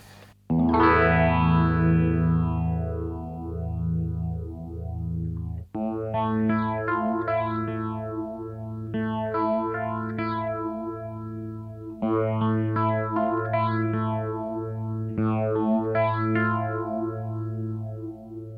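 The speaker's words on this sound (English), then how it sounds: "use it mostly as a normal phaser, you know, oscillating" Electric guitar chords through an Electro-Harmonix Bad Stone phaser pedal ring out with a slow, sweeping phaser effect that swirls and whooshes up and down as each chord sustains.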